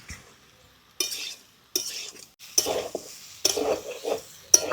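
A spoon stirring boiled potatoes into a thick fish curry spice masala in a pan, as scraping, clinking strokes in uneven bursts with short pauses between them, close and fairly loud.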